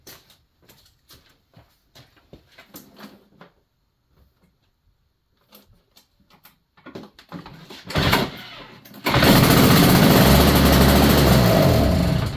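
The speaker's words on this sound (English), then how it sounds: "So that's how you get a 2-stroke running again." A Toro two-stroke snowblower engine catches and runs steadily and loud after several seconds of scattered clunks and handling noises, its broadband roar holding to the end.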